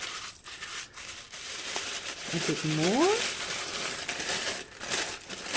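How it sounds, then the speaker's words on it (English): White tissue paper crumpled by hand, giving a crinkly rustle that runs for a few seconds under a person speaking nearby. "So I'm going to crumple this"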